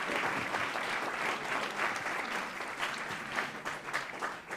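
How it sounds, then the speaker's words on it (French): Audience clapping at a live short-film screening night in Grenoble, a thick sustained patter of many hands that swells and dips slightly over several seconds, with no talking. "On peut l'applaudir encore une fois."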